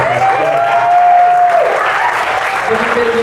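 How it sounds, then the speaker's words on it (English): Wedding reception guests applaud a toast-giver, a steady wash of clapping and crowd noise with a voice and a sustained musical tone running underneath. "Let's give him another big round of applause."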